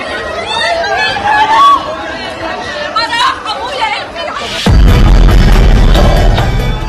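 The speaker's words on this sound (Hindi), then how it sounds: "इस आग के बीच बच्चों को बाहर निकालने के लिए आवाज लगाई जा रही है।" A chaotic crowd at a burning former Gaza school turned refugee camp shouts to get children out of the fire. Agitated calling fills the first part, then a sudden loud roar of fire and noise swamps everything.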